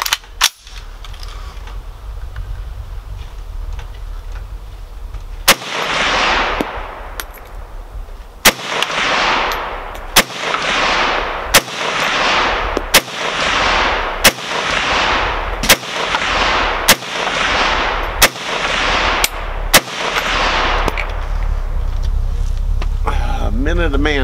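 Repeated SKS rifle shots at an outdoor shooting range, about ten sharp, loud cracks fired at a steady pace of roughly one every one to two seconds, each followed by a rolling echo over constant background noise.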